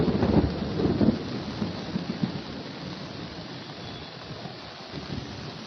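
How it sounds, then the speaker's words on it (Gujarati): Thunder rumbling through a heavy downpour in Vadodara, a broadband roar that is loudest in the first second or two and then settles into a steady, continuous wash of pounding rain with no voices. "દર્શક મિત્રો આપ જોઈ રહ્યા છો કે વીજળીના કડાકા સાથે ધોધમાર"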